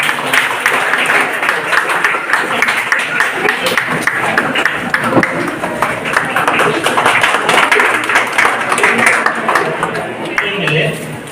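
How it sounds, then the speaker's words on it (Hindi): A crowd claps steadily at a hospital's Independence Day cultural program, a dense, continuous patter of many hands that runs throughout with voices mixed underneath. "आपकी जोरदार तालियां होनी चाहिए।"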